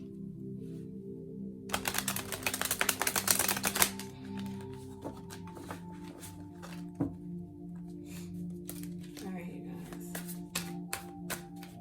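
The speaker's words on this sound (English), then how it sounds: "Now I'm going to shuffle it again, and then I'll pull one from the top." Deck of tarot cards being shuffled, a burst of rapid riffling flutter followed by scattered soft card slaps and taps, with quiet background hum.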